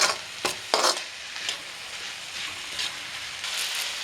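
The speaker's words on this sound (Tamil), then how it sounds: "ஸ்டவ் நல்லா ஃபுல்லில் வச்சு கலரி விட்டுக்கிட்டே இருங்க." Chicken dry roast is stirred over a high flame, a steady sizzle with repeated scraping strokes of a spoon through the pan, close and without any voices.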